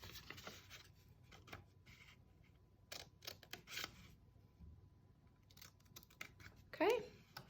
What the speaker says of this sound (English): go along your square and cut them out on each corner.